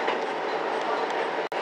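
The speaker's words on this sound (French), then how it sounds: "Donc il y a des trains locaux, bien sûr, d'une compagnie privée." Local train of a private, non-JR railway in Japan, running between Hakodate and Onuma: a steady, loud rolling rumble with a brief dropout near the end.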